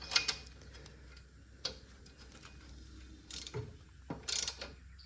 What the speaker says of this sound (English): we will tighten this other bolt after we put some blue thread locker on there